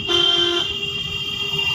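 A car horn toots in one steady blast lasting about half a second while a car is being driven, then fades into the low hum of the moving vehicle and road noise.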